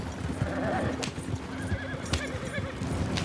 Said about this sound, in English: I know I'm whipping these horses and it's unnecessary